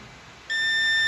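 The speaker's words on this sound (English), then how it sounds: "Check the multimeter. First you confirm beep is giving or not." A digital multimeter on continuity test during a laptop motherboard repair gives a sudden, sustained high-pitched beep that starts halfway through and holds steady to the end, loud and close, after quiet background hiss.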